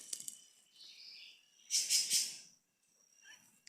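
A sabiá thrush calls beside a forest lake, giving a thin whistled phrase followed by a louder, brighter burst of chirping, then a short quiet gap.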